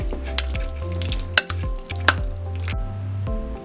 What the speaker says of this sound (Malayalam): ഇനി നമുക്കിത് നല്ലവണ്ണം മിക്സാക്കി കൊടുക്കാം.